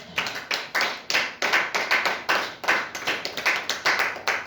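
A church congregation clapping in strong rhythmic unison, loud and close, a continuous run of sharp hand claps acclaiming the Lord with no voices over it.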